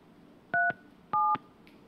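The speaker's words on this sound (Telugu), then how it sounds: "మన పీసీఆర్ టీం కూడా ఆ కోనేటి ఆదిమూలంకి ఫోన్ కలుపుతా ఉన్నారు" Telephone keypad dialing: a few short touch-tone beeps, two quick pairs of crisp tones with brief gaps between, close and clear over a quiet background.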